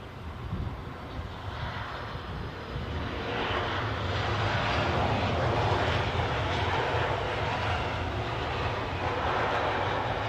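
An airliner inbound from Stuttgart passes at London Heathrow with a dense, rumbling engine roar that grows louder after a couple of seconds and stays sustained, free of speech.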